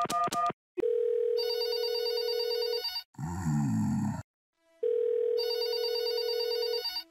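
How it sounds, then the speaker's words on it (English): A phone rings in the video game There Is No Game, with repeated loud electronic ring bursts broken by a short burst of other noise and brief silences. "Snap him out of it with a phone call"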